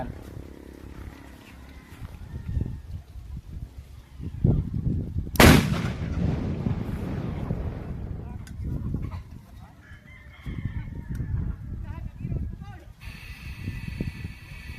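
A single loud, sharp blast from a homemade butane cannon cuts through, with people talking before and after it.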